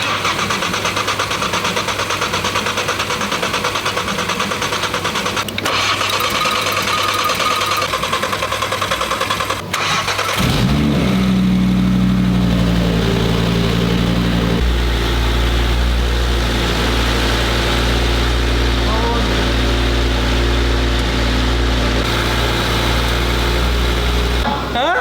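An Audi RS3 8Y engine runs on a dyno during a power run, a steady loud drone that swells after about ten seconds into a heavy, rising roar held to the end.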